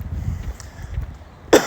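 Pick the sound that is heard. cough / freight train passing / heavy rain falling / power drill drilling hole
cough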